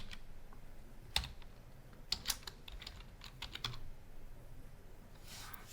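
Typing on a computer keyboard: a handful of sparse, crisp key clicks at irregular intervals over quiet room noise.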